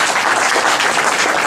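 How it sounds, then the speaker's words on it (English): A tech meetup crowd on Mobile Monday in Silicon Valley claps for a panelist, a brief, loud, steady burst of applause with no voices. "So give a round of applause to Mahesh"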